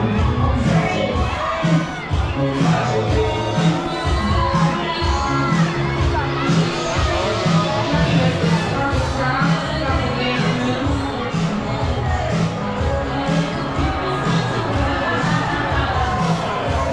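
A dense crowd cheers and shouts continuously at an adult Halloween costume parade along the Royal Promenade of the cruise ship Star of the Seas, with loud layered voices and excited yells throughout.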